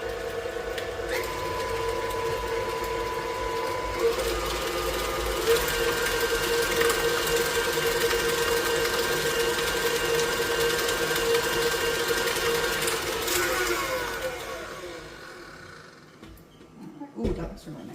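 An electric mixer beats Baileys into Irish cream frosting with a steady, close motor whine that runs for about fifteen seconds before stopping, followed by a few light clatters.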